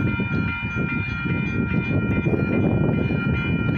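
A slow westbound Union Pacific manifest freight led by a BNSF locomotive rolls past at Kinder, Louisiana, a steady loud rumble of wheels and cars with a constant low drone and no talk.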